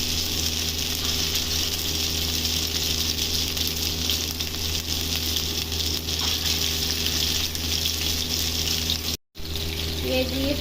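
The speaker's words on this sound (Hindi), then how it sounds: "ये तेल हमारा गर्म हो गया था हमने, और ये हम लो फ्लेम पे अब ये कोफ्ते फ्राई कर रहे हैं" Koftas frying in 3 to 4 spoons of hot oil over a low flame, giving a steady, continuous hiss and sizzle that runs unbroken for about ten seconds before a brief cut.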